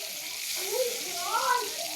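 Eggplant frying in plenty of oil gives a steady hiss and sizzle throughout, fairly close, while a voice talks over it.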